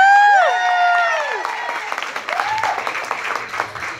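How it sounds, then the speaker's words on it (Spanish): Applause at a girl's birthday gathering just before she sings, clapping from a small group of people starting right after loud voices and continuing in uneven bursts with talk mixed in. "Un aplauso para mi niña."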